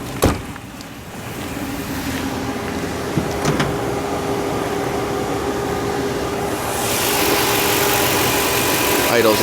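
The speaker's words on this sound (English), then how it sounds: "Idle's nice and smooth." A 2002 Toyota Sequoia in mint condition idles with a smooth, steady low hum close by, with a few clicks and handling knocks at the start and a rise in hiss near the end.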